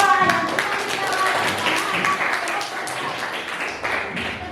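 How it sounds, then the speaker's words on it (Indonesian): Students in a ninth-grade civics classroom clap for a group after its presentation, a scattered, moderately loud patter of hands with some voices mixed in. "tepuk tangan untuk kelompok 2"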